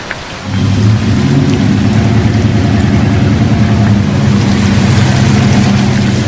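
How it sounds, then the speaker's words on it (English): Heavy rain pours steadily with a deep rumble of thunder beneath it, loud and close outdoors, a dense continuous wash of sound after a brief quieter start. "Stay out of this rain."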